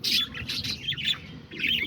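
Aviary birds squawk and chirp close by, including lovebirds, budgies, cockatiels and diamond doves: a busy run of harsh, overlapping calls with brief pauses between bursts.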